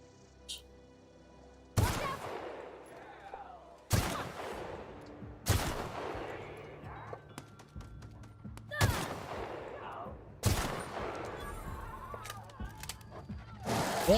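Gunfire in the video game The Outer Worlds: five sharp, loud single shots spaced about two seconds apart, each with a ringing decay, over quiet game ambience with a brief voice early on.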